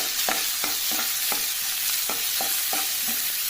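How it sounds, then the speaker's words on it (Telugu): Tomato pieces fry in a pan while being stirred, a bright constant sizzle with a regular series of about ten spoon scrapes and taps against the metal, close by and with no one talking. "టమోటా ముక్కలు కొంచెం మగ్గనిచ్చి"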